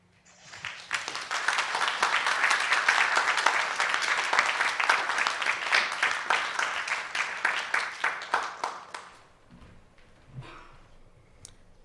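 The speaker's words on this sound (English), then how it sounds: "I hope you can hear the applause." Audience clapping after a family therapy conference talk, a dense sustained round of applause that swells, holds and then thins out to scattered claps before fading.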